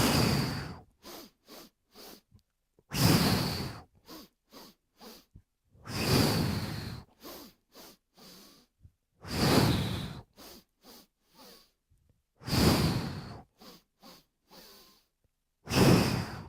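Deep breathing in a Kundalini and Vinyasa yoga class, with long, forceful inhales and exhales, each followed by a quick series of short, sharp breath pumps, repeating in a steady cycle.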